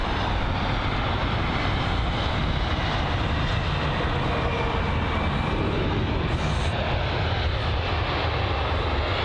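Aircraft engine roar at London Heathrow airport, a loud, continuous broadband rumble of a nearby plane holding steady throughout with no talk over it.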